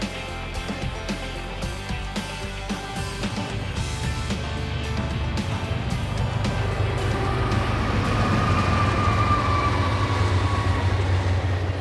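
A train rolls past near the Mississippi River, with a steady rumble and rhythmic rail clicks that build gradually from moderate to louder as it draws closer. No voices are heard.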